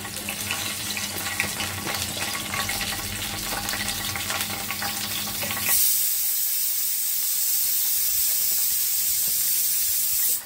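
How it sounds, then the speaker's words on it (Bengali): Bay leaves and dried red chilies dropped into hot oil for dal, giving a loud, continuous sizzle and crackle that turns into a thinner, steady hiss partway through. "এখানে তেলে দিয়ে দেবো তেজপাতা, আর আছে শুকনা মরিচ"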